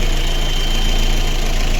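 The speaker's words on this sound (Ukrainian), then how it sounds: "двигун вже повністю прогрітий, вентилятор вмикається, все чудово. Ось так працює на гарячу." Lada Granta engine idling steadily at full operating temperature after a cylinder head rebuild, a continuous close mechanical hum with an even running note and no pauses.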